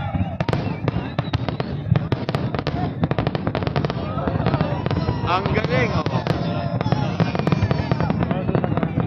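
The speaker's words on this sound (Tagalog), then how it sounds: "Ito na yung pinakamagandang fireworks nila kasi last year." Fireworks bursting over a Qatar National Day celebration in 2020: a dense, continuous barrage of sharp cracks and booms with rapid crackling, loud and steady throughout, while nearby spectators exclaim and talk.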